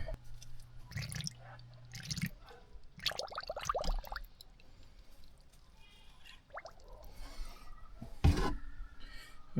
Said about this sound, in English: let's put some coolant